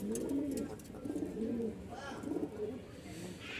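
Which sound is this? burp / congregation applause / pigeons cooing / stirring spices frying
pigeons cooing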